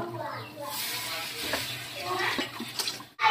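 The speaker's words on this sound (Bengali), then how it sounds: "আমি এখানে সুজিটা হালকা করে ভেজে নিয়েছি। এরপরে দিয়ে দেবো জল।" Water poured onto lightly roasted semolina in a pan hisses and splashes in a close, continuous rush, ending in a brief break and a final splash.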